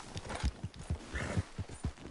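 Horse hooves clip-clop at a steady walking rhythm in the video game Red Dead Redemption 2, with regular muffled thuds close by and no talk.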